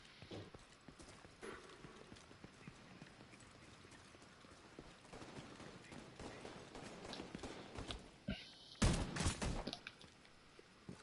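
Gunfire in the video game The Division 2, a spread of muffled shots under a busy game soundscape, building to a dense, loud burst of fire near the end.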